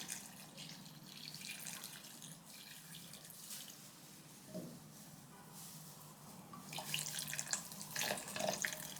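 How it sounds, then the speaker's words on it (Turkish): Lukewarm water is poured over dried figs in a bowl, a soft, steady trickle and splash that grows slightly louder near the end, quiet and without voices. "Üzerine geçecek kadar ılık su ilave edelim ve incirlerin yumuşamasını bekleyelim."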